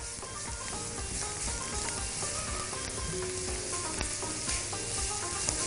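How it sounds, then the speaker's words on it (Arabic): Carrots sautéing in a pan for mujaddara give a steady, close sizzle with the scrape and clatter of stirring throughout, and no voices. "يلا بينا بقى ننزل بالجزر. يلا واشوح تشويحه كده."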